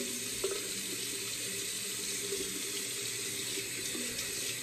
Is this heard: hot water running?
yes